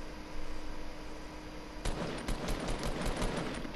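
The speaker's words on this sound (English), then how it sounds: "I only put two bullets in him and, like, both of them hit" Video game gunfire in a squads match: after a quiet stretch of background hum, a rapid burst of about eight sharp automatic shots rings out close and fairly loud, with no talk.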